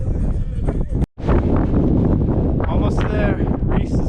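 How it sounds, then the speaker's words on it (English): Gusty wind on the summit of Mount Jefferson, up in the clouds, buffets the microphone in rough, roaring bursts with a brief dropout, close and loud as hikers talk through it. "It's also getting a little windy."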